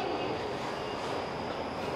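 Near a train bound for Hakata at a station in Fukuoka, Japan, a continuous broad rumble of rail cars rolls by close and steady for two seconds with no talking.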